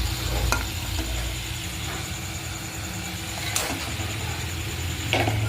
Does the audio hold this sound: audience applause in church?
no